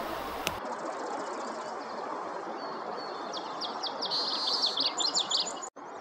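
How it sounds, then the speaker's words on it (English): A song sparrow sings from a San Diego pond-side thicket in spring, its bright trilling phrases rising over steady outdoor background noise in the latter half. "Song sparrow."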